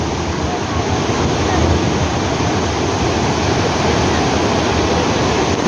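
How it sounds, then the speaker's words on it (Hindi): Water rushes and flows loudly and continuously, a dense steady roar close to the microphone with no pauses. "पानी रो साउंडटा भाई शुणु।"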